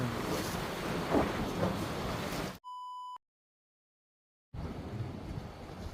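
Steady, rushing wind noise buffets the microphone outdoors at a seaside breakwater, with a short electronic beep tone partway through and a brief silence before the blustery roar resumes.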